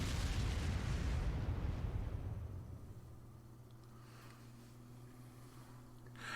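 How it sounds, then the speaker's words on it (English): Railway gun artillery fire in the Trails of Cold Steel video game: a loud, rumbling barrage of booms for about three seconds, then fading into a low, steady drone. "Railway guns."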